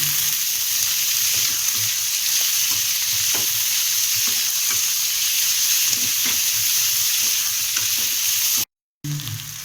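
Garlic cloves and chillies sautéing in oil in a pan for spicy kara chutney, with a steady close sizzle and hiss and faint scraping stirs running nearly the whole time, broken by a brief gap near the end.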